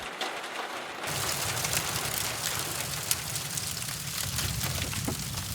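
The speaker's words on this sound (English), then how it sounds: "we made it to Pinnacles, camping here tonight, and it's starting to rain." Steady rain patters on a surface at a campsite in Pinnacles National Park, a dense even hiss with scattered drop ticks, beginning abruptly and continuing throughout without voices.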